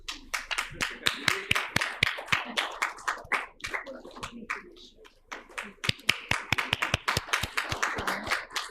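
An audience at a technical session of an academic conference claps in a brisk burst of applause, then thins briefly and swells again, close and fairly loud with a voice faintly present underneath.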